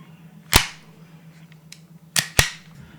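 Gunshot-like bangs in a house-call comedy skit: one sharp, close crack, then a quick pair of loud reports about two seconds later, with quiet room tone between and no talking.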